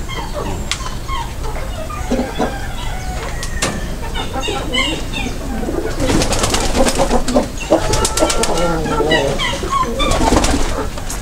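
Several pet pigeons coo and call continuously nearby, a dense overlapping chorus with soft flutters and rustling, and occasional voices in the background.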